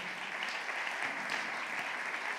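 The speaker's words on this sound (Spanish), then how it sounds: "¿Quiere darle ese aplauso más fuerte al Señor?" A church congregation claps in sustained, dense applause at a Sunday sermon, a steady even wash of many hands heard at a moderate distance without a break.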